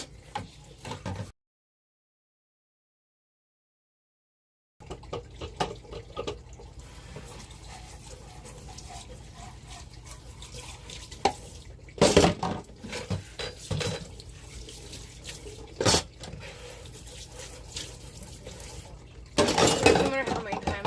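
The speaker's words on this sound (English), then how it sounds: "No matter how many times a day I do dishes, there's still dishes in the sink." Dishes are washed in a sink aboard a bus, with faint running tap water and occasional sharp clinks of plates and glass, broken by a brief gap of silence.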